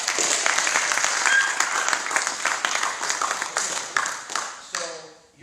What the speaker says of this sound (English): Round of applause for Christian.